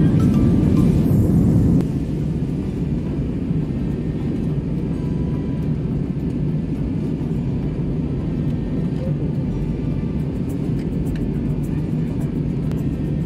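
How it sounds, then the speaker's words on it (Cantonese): Steady low rumble of a plane's engines and cabin noise as it lands, loudest at the start, then a constant droning roar for the rest. "飛機着陸啦！"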